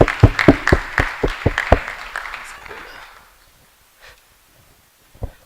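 A small audience claps for a speaker at a talk on South Africa, starting with distinct, fairly close claps that soon thin out and fade to near silence, with a couple of stray sounds at the end.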